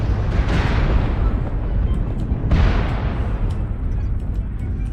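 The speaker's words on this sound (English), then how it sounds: "Warning, incoming missile." Heavy booming explosions from incoming missiles in the mech combat game MechWarrior Online, two big rumbling blasts about two seconds apart over a dense, continuous low roar of battle.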